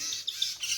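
Pet birds, including a yellow-vented bulbul, a baby zebra finch, a cockatiel and parrots, give a quick burst of several high, thin chirps close by, with no talking.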